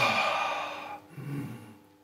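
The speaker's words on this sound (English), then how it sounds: "And then you breathe deeply." Deep breaths drawn in and let out during a posture exercise, a long breathy exhale followed by a softer, lower breath, close and alone.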